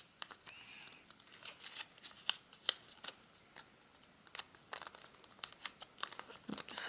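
Paper being folded into an origami Siamese cat, with soft crinkles and sharp creasing snaps coming in irregular bursts, close and fairly quiet, with no talk.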